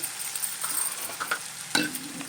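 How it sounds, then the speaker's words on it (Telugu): Chopped tomatoes sizzle and fry in oil in a pan for a paneer curry, with a steady soft hiss and a few light stirring scrapes and clinks. "చూసారా ఎంత చక్కగా వేగుతుందో టమాటా అలాగా వేగాలి"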